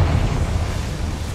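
A deep, rumbling explosion from a Confringo blasting spell in the Hogwarts Legacy video game, a loud, sustained low boom filling the short moment with no voices over it.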